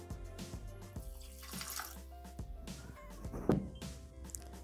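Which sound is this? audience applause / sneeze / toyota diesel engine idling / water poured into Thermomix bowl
water poured into Thermomix bowl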